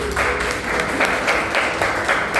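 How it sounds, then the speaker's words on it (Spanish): A church congregation claps in a dense, steady burst of applause, loud and close, with rhythmic pulses running through the crowd noise. "Den un aplauso al Señor, por favor."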